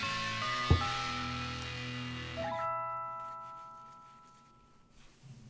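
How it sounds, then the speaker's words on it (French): A school bell chimes at the end of class: a sharp ding-dong strike, then sustained ringing tones that hold, fade and drop away after a few seconds, with no talk. "Le cours sera pas terminé quand la sonnerie euh, retentira"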